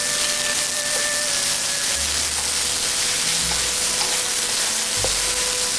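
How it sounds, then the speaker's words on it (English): Cabbage and celery with salt being stir-fried in a wok, giving a loud, even hiss of frying with a few low clanks and scrapes from the spatula against the metal. "Now we're adding cabbage, celery, and 1 teaspoon of salt."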